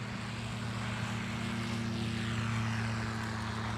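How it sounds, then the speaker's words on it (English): A Zlin Norden propeller airplane at full power during a very short takeoff, its engine drone steady and loud with a strong propeller hum throughout, no voices. "That was a 100-foot takeoff, folks, in a Zlin Norden."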